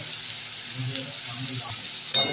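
Pumpkin pieces fry in oil with five dried red chillies, two green chillies, salt and turmeric, making a loud, even sizzle with soft stirring, then a brief sharp scrape at the end.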